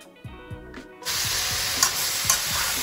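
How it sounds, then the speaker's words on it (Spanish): Pork chunks sear in hot olive oil in a pot over high heat, starting with a few soft scrapes and stirring taps before a loud, steady sizzle takes over, close up and without voices. "Aquí estamos sellando nuestra carne."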